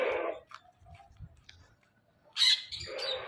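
Parrot chicks in a cage give a few short, high chirps and calls, scattered and fairly faint, with quiet gaps between bursts.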